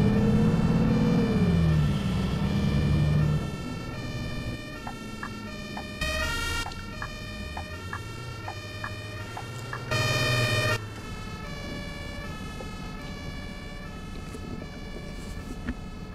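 An ambulance siren wails in the OMSI 2 bus simulator game on a Düsseldorf map, a long two-tone cycling siren heard throughout over a low bus engine rumble, with a brief engine swell at the start.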